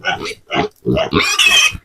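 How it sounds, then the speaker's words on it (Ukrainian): Two small piglets grunt and squeal in short close bursts, a few rapid calls with brief pauses between them. "Купили ми двох поросяток."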